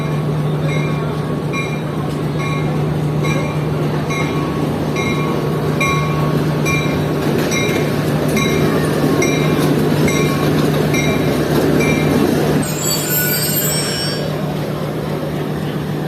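A train, the Jaffar Express, rumbles steadily close by as it arrives at platform 3 of Rawalpindi railway station, with a low hum and rhythmic wheel clatter, and a brief metallic squeal near the end.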